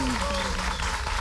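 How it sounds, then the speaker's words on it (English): A live crowd applauding for an encore in a break from the instrumental of an album track, dense steady clapping with tonal music lines running faintly underneath throughout. "with the crowd applauding for an encore"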